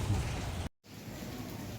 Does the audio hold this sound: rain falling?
yes